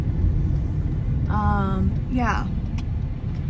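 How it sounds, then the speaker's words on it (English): Steady low rumble of a car's interior on a morning drive to work, constant throughout, with someone talking briefly over it. "We're in the car on the way to work."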